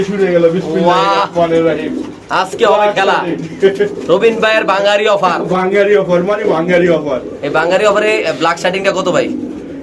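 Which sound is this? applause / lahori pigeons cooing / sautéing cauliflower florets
lahori pigeons cooing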